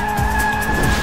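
Tires squeal in a continuous skid as a car drifts in the Sonic & All-Stars Racing Transformed racing game. The screech is loud and sustained, with a steady tonal whine over a rumbling engine.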